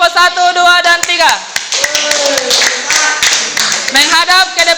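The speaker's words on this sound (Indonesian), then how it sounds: "tepuk tangan dulu untuk kelompok 1, 2, dan 3" Classroom applause for groups 1, 2 and 3, a burst of clapping from students mixed with voices and chatter, fairly loud and close, rising again near the end.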